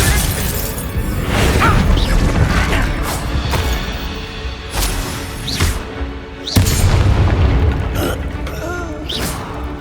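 Confringo fire spell cast in the game Hogwarts Legacy, a burst of booming, crackling blasts with rumbling impacts and debris, loud and dense, repeating in waves.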